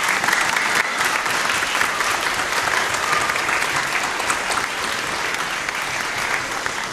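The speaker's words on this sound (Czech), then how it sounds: "Velký potlesk." An orchestra concert audience applauds in a hall, a dense, steady wash of clapping from many hands that holds at an even level throughout with no talking.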